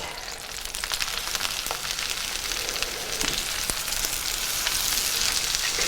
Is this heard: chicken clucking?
no